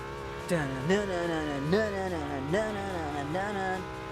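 A Toyota Supra Mark IV engine in Gran Turismo 2 revs up and down repeatedly in rising and falling sweeps, moderately loud and continuous, like gear changes under acceleration.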